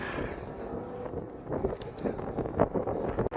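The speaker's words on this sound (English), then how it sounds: "it's windy" Gusty wind buffets the microphone in rough, uneven bursts, with a sharp jolt near the end.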